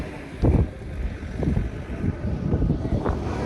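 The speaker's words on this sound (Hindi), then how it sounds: "बाकी बहुत ज़्यादा ठंडी हवा चल रही है" Very cold wind blowing at Zojila Pass in Kashmir, loud gusty buffeting against the microphone with a low roaring rush and stronger bursts swelling and fading.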